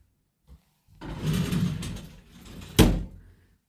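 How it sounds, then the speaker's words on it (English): A hotel bathroom sliding door rolls along its track for about a second, then thuds shut with a sharp knock, close and fairly quiet otherwise. "Sliding door."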